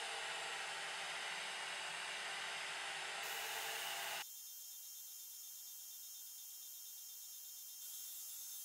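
A benchtop CNC machine milling a sculpted guitar body with a quarter inch flat end mill gives a steady, loud broadband whine throughout, dropping abruptly to a thinner high-pitched hiss partway through as the cut changes.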